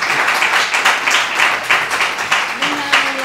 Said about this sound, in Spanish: Podéis aplaudir, gracias.